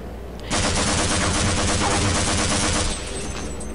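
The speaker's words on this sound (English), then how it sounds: "Now there's aliens and people gunning me down." Rapid bursts of gunfire from aliens and soldiers in the Half-Life video game, dense and continuous, loud and close for about two and a half seconds before easing slightly, with no talking.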